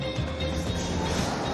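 A TGV high-speed train rumbles and rattles steadily from inside the carriage, a low continuous ride noise with faint clicks running through the short stretch.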